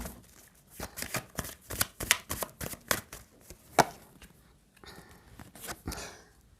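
Tarot cards are shuffled by hand close up, giving a quick run of crisp riffling slaps and taps in irregular bursts, fairly faint, with no talking over them.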